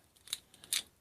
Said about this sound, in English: The cutter works alright. You can cut wire pretty well all day long